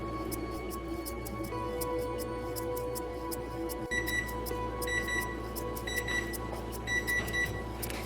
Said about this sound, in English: This time I'm going to set a timer just because I know I'm going to be just in the other room.